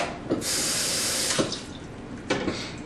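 Liquid from cooked turkey draining through a mesh strainer, a steady close hiss of running, splashing fluid with a few brief louder surges and no voices.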